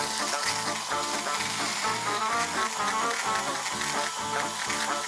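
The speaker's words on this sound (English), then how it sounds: "we're going to whisk them until they're nice and fluffy" Egg yolks being whisked for a fruit tiramisu, a rapid rhythmic beating against the bowl that runs continuously and loudly, close up and with no talking.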